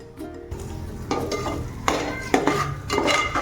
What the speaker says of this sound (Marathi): आता आपण ही भाजी फोडणीला टाकूया